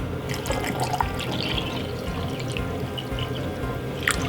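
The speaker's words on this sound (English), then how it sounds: "And then you fill your glass with some water." Water pours into a glass holding a teaspoon of apple cider vinegar, a continuous close splashing trickle that stays steady throughout with no talking.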